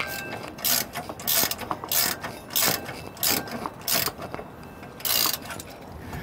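A ratchet wrench tightens U-bolt nuts on a steering stabilizer bracket under a 2004 Ford, giving quick bursts of clicking that repeat in regular strokes, close and fairly loud, with no talking.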